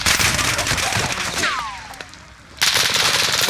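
Rapid automatic gunfire in a Call of Duty match, loud dense bursts that drop away for about a second before a fresh volley resumes, with a faint whistling streak in between.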